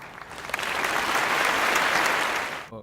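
A hall audience at an awards ceremony breaks into warm applause that swells quickly, holds steady and full, then cuts off abruptly at the end.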